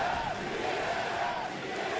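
A large esports arena crowd at an Apex Legends championship final roars in a dense, sustained wall of cheering and shouting, loud and continuous throughout.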